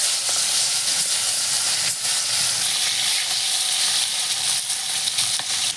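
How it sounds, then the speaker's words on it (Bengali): Pieces of fish fry in hot oil for a Bengali dish, giving a loud, close, continuous sizzle with faint spits and crackles throughout. "মাছটা এবার একটা একটা করে তেলের মধ্যে ছেড়ে দেবো,"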